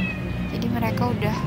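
Several house cats meow at feeding time, their short cries sitting under someone talking in Indonesian nearby.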